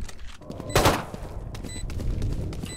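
Gunfire in the Valorant video game, one loud burst of shots followed by scattered quieter game sounds and faint beeps, heard without talking.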